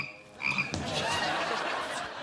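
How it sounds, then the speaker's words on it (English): Plastic toy frog croaking as someone walks in front of it, a loud, rattling croak repeating steadily for about two seconds with no talk. "he's going to be playing for this plastic frog that croaks whenever you walk in front of it"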